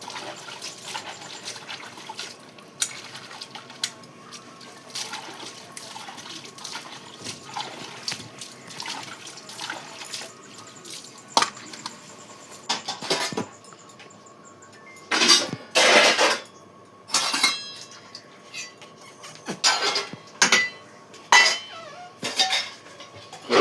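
Woks (kadai) being scrubbed and rinsed with water: scraping and clattering metal with sloshing, trickling water, growing into several loud, close bursts of splashing and clanking toward the end.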